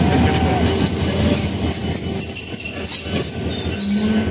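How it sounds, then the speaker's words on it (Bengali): A passenger train from Dhaka rumbles past close by near Bhatiary railway station, its wheels squealing steadily against the rails over a constant low roar, with no voices. "আবার একটা ট্রেন আসতেছে"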